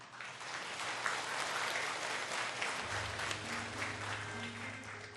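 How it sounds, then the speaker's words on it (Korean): Audience applause at a Buddhist memorial tea ceremony marking the 75th anniversary of Manhae's death: steady, dense clapping from a large crowd that fills the whole stretch, with a low sustained hum entering partway through. "여러분 뜨거운 박수로 스님을 맞이해 주시기 바랍니다."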